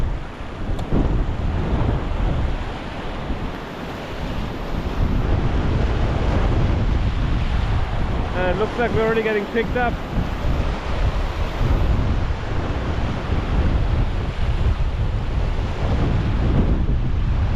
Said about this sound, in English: Waves are getting big.